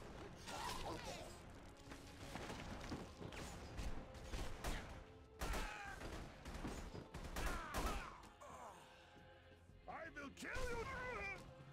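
Gunfire in The Punisher video game on hard difficulty: bursts of shots mixed with clanking mechanical noises and shouting voices, coming in irregular loud clusters over a long stretch.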